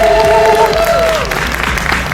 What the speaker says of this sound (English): A big round of applause for our new friend.